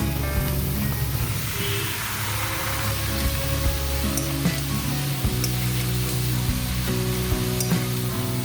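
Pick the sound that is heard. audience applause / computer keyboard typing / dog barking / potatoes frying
potatoes frying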